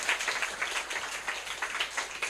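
An audience at a youth committee launch and appointment ceremony applauds, a moderate, fairly distant patter of many hands clapping steadily.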